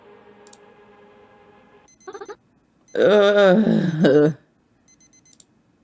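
An alarm clock in the video game Dream Spectra beeps in short electronic bursts, with a louder ringing tone in the middle, clear and close, with brief pauses between the bursts.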